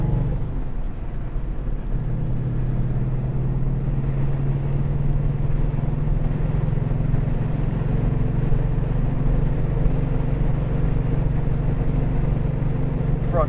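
A Lancia Flavia's engine drones steadily from inside the car while driving, a low, even rumble holding a constant note with road noise beneath and no revving.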